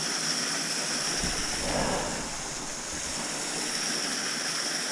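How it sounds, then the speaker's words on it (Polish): Waterfalls pour over rock in a steady, full rushing roar with a hissing spray, constant and enveloping throughout and never letting up. "Zobaczcie jakie my mamy tu wodospady."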